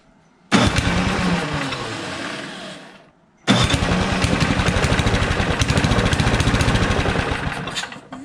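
A John Deere 726 snowblower engine is pulled over and catches in a loud, close, rattling roar, dies away after a few seconds, then is started again and runs roughly with a steady pulsing clatter.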